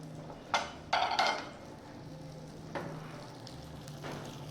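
Spinach pesto sizzles softly in a pan, with a few short louder bursts of crackle and stirring early on, then a quieter steady fry.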